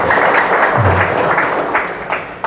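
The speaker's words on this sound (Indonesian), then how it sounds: "tepuk tangan" A crowd at a Muhammadiyah gathering applauding steadily, dense clapping that holds loud for a couple of seconds then tapers off, with a few sharper claps near the end.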